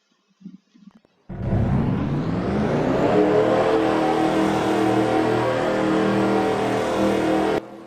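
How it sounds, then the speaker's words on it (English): Race car engines fire up at a Texas World oval race, joining quickly into a loud, sustained roar of revving motors that holds steady until it cuts off near the end, after a few brief faint knocks at the start. "Drivers, start your engines."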